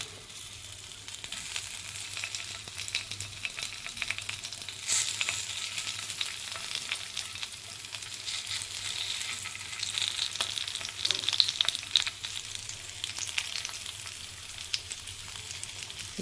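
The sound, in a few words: stuffed green chillies frying on low flame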